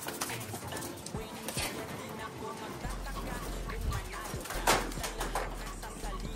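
Speedbird pigeons in a loft give soft intermittent coos amid shuffling and low rumbling noise, with faint talk nearby.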